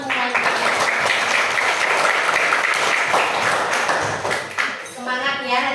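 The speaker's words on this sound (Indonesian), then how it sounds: "Tepuk tangan untuk kelas 5 semuanya." A fifth-grade class of children in an elementary school classroom claps together in a lively burst of applause that fades out toward the end, followed by a voice starting to speak.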